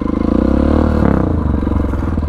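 Sir Toto's off-road dirt bike runs loud and close, its engine putting out a pulsing rumble with a surge of revving midway and some clatter from the rough ride.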